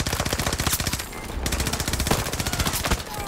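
Automatic gunfire in a Battlefield 2042 match, a loud, dense stream of rapid shots over about three seconds with barely a pause, the bursts running close together and near.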